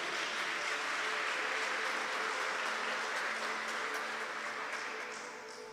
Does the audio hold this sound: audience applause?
yes